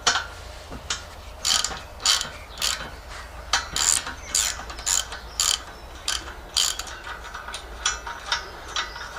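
Grease gun being worked on the grease nipples of a small Chinese-made mini excavator, a steady series of sharp mechanical clicks and ratcheting strokes repeating every half second or so, close and alone.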